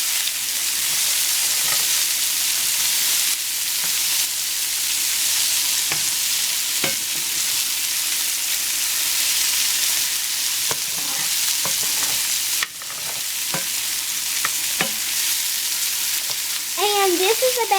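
Chopped onion sizzles and hisses steadily in a hot pan for chicken bog, with intermittent scraping strokes of a spoon stirring it, close and continuous throughout.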